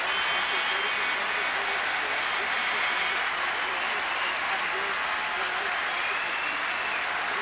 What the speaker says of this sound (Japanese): 観衆大拍手。